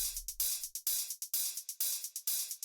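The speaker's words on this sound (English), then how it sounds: "The next thing that we have here are these hi-hats, which sound like this." A group of dry hi-hats for EBM techno ticks in a fast, uneven pattern of crisp, bright hits with short decays and no reverb, played alone.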